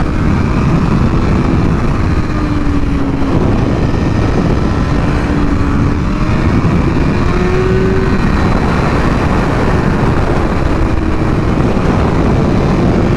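Kawasaki Ninja motorcycle ridden along back roads, a loud, steady roar of engine and wind rush with a faint rising whine drifting through, continuous and close, with no talking.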